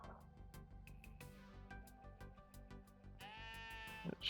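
Quiet game music plays in the video game Necesse, and near the end a short, wavering sheep bleat rises briefly above it.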